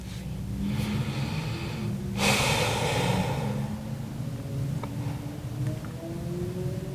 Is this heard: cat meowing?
no